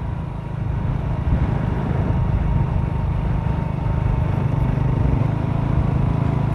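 A motorcycle riding along a boulevard in Rosales, Pangasinan: a constant, loud, close engine drone mixed with wind rush, steady throughout with no pauses.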